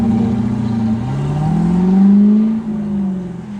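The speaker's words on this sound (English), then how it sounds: "I think this is the first TVR of the day, in the form of a Griffith" A TVR Griffith on Tomora wheels arrives at a supercar event, its engine close and loud, a deep burbling note rising and falling as it rolls in with light revving, heard alone without talk.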